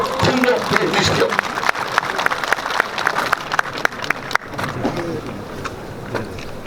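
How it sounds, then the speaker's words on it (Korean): Sustained applause from a crowd at a press conference outdoors, dense clapping running for several seconds at close range before thinning slightly, with some background noise mixed in. "박수로 격려해 주십시오."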